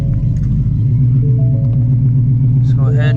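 Car engine idling with a steady low rumble as the car sets off for a drive, a voice talking over it near the end.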